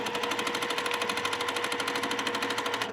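Sewing machine stitching quilt pieces, a fast, even rapid-fire clatter of the needle running continuously up close, loud and mechanical with no pauses.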